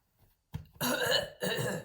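Two harsh, raspy coughs close up, each a loud burst, with a brief pause between them.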